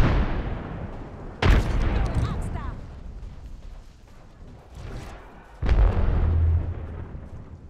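Frag grenade detonations in Apex Legends, two loud close blasts a few seconds apart with rumbling tails, amid gunfire and a player talking.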